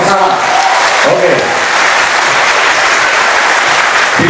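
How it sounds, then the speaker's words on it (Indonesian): A school crowd at an anti-drug student gathering claps together, producing a loud, dense, continuous roar of applause that fills the space without pause. "Tepuk tangan bersama."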